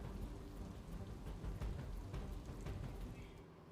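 Steady monsoon downpour across Mehsana district in Gujarat, a continuous dense hiss of heavy rain with low rumbling underneath that suggests distant thunder, holding at an even level throughout.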